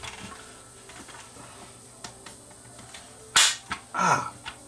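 A plastic battery charger case snaps open with a sharp crack, followed by a few softer plastic clicks and rattles close by, alone without talk.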